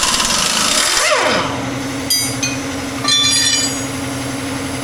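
An air impact wrench works on the 36-blade rotavator of a John Deere 5105D tractor, giving a loud, close whirring rattle with a falling pitch sweep and short hard hammering bursts over steady mechanical noise.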